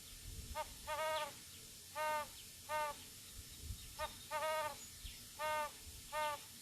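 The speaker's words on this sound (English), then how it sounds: "I'm going to play the sound of the great horned owl now" Recorded calls of a great horned owl come in repeated short hooting phrases with brief gaps between, moderately faint over a low background hum.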